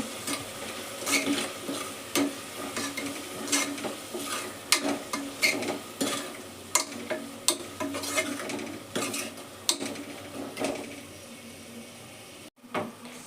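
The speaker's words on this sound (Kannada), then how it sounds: "ಸ್ವಲ್ಪ ಗರಂ ಮಸಾಲೆ ಹಾಕಬೇಕು ಹಾಕ್ಬಿಟ್ಟು ಚೆನ್ನಾಗಿ ಮಿಕ್ಸ್ ಮಾಡಬೇಕು" Garam masala is stirred into the hot kara pongal tempering in a pan, with a steady soft sizzle under repeated scraping strokes of a spoon against the pan, close and continuous.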